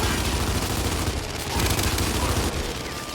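A Mulcher heavy gun fires without a break during a Gears 5 multiplayer match, a loud dense rattle of automatic shots that keeps up through the whole stretch.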